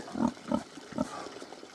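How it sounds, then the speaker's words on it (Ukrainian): Hungarian Mangalica piglets on a small pig farm give soft, close grunts, three or four short oinks in an uneven rhythm, with no voices over them. "ці поросятка набігає он у них водичка"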